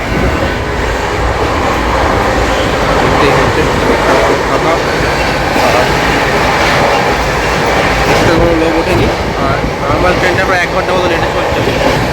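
The Howrah–Barmer Express rumbles along steadily, loud and close, with rattling carriages and faint wheel clatter under a constant roar, voices faintly mixed in.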